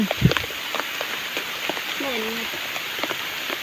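Steady rain falls on rice paddies during a mushroom-foraging trip, a broad continuous patter with a few brief voices and small knocks close by.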